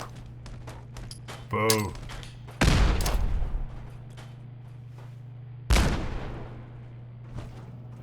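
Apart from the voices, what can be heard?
turret gunfire in video game Fallout 4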